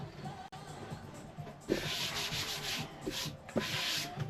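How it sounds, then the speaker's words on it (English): Wood filled with CA glue on a live-edge oak shelf is sanded by hand, with quiet, steady rubbing strokes in a rhythmic back-and-forth pattern at close range and no talk. "I'm gonna fill it with some CA glue and sand over it"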